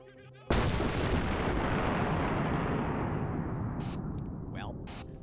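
An artillery bombardment in Arma set in Takistan, a sudden loud blast after a brief quiet lead-in, then a long rumbling roar that slowly fades, with faint voices near the end.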